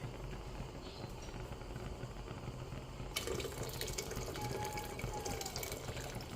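Water is poured into a pot of pinakbet with grilled mudfish, a soft splashing stream that starts partway through, quiet and close, with no talking.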